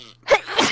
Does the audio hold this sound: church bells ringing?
no